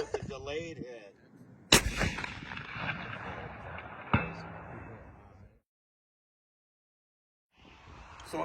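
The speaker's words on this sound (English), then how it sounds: "This is us getting ready to take a shot at 600 yards, McMillan TAC 50." A McMillan TAC 50 sniper rifle with an elite iron suppressor fires once at a steel plate 600 yards away on an outdoor range, a single loud sharp blast rolling into a long echoing decay, followed by a fainter delayed impact crack.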